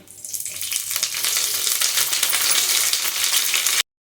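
Two garlic cloves and tempering spices sizzle loudly and steadily in hot oil in a pan, a dense continuous crackle that stops abruptly at the end.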